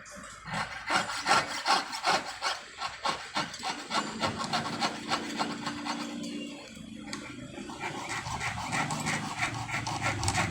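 A Thai goldsmith fretsaws a metal stencil, cutting along a pattern of drilled holes; steady rhythmic rasping saw strokes sound close and continuous throughout.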